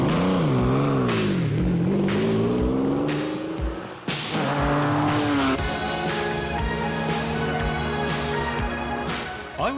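A Lamborghini Countach LP400S from the 1980s drives close by, its engine revving loudly and rising and falling through the gears, with several sharp shifts and a sustained howl throughout.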